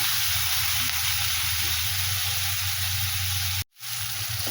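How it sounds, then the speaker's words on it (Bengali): Spices fry in a pan with a steady, close sizzle and hiss that cuts out briefly near the end and then resumes. "আমি মশলাটা আগে ভেজে নিই"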